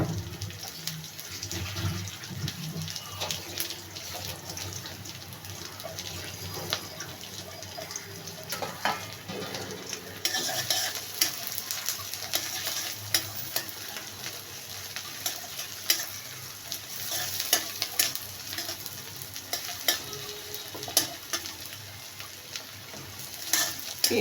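Plenty of chopped onion frying in a pan, giving a steady, dense sizzle with stirring scrapes throughout, close and continuous.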